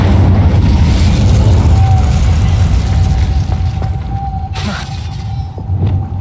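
A fire spell bursts with a loud, sustained roaring blast in Hogwarts Legacy, close and heavy with deep rumble throughout, thinning slightly toward the end.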